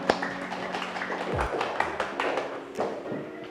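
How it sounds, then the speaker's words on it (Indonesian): Scattered taps and claps in a classroom, a class applauding a student, uneven and light rather than a full ovation, fairly quiet and close. "Tepuk tangan buat Ajiza"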